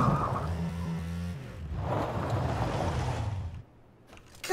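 A buggy driven in the video game PUBG, engine droning and revving steadily at close range with a shift in pitch midway, then dropping away near the end before a sudden burst.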